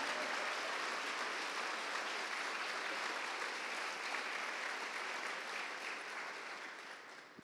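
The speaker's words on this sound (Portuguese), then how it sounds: "Aleluia, aplauda o Senhor pela sua palavra" A church congregation at a Pentecost service claps in praise. The steady, dense applause is fairly distant and quiet, holds evenly, then fades toward the end.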